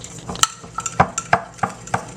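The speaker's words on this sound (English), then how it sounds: "And then I'm going to mix this up well." Cornmeal pone batter flavored with rum and Irish cream is stirred in a bowl, giving a series of close, rhythmic scraping and tapping strokes about every third of a second.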